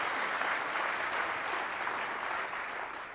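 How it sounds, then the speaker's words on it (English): An audience at a Build 2015 developer conference session gives a short, even round of applause, moderately distant and steady, tapering slightly at the end. "We should give Dustin some applause first, though."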